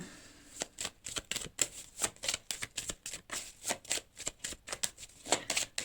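Tarot-style cards are drawn and handled in a reading, giving a steady run of crisp slaps and snaps close by, about three to four a second, with no talk.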